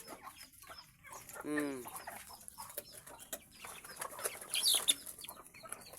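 Farm chickens cluck softly nearby, a drawn-out cluck or squawk followed by scattered faint clucks against quiet outdoor background.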